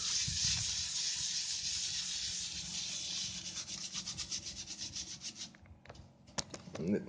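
Aluminium foil lubricated with polish rubs against chrome on a Royal Enfield Classic, a steady scratchy scrubbing that turns into quicker back-and-forth strokes, close and fairly quiet, fading near the end.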